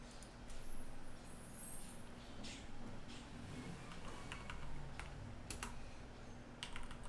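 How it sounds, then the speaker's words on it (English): Steady typing on a computer keyboard, rapid close clicks and key taps running continuously with a few louder keystrokes, no voices. "we're gonna start typing the model of the motorcycle that you're looking for"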